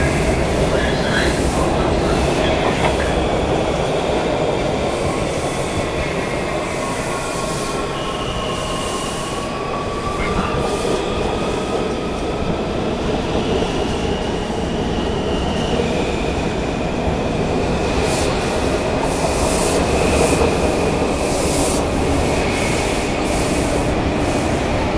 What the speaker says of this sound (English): here's another train coming from Shady Grove to Glenmont.